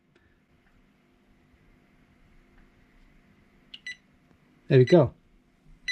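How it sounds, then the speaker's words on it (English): A JK battery management system on a 12V 4S battery gives a short startup beep, then a louder double chirp near the end, with a voice speaking briefly. "the BMS should beep and start"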